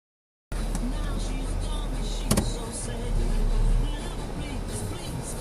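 A vehicle passes on the dirt Tower Arch Trail in Arches National Park, its engine and tyre rumble swelling briefly under steady outdoor wind noise.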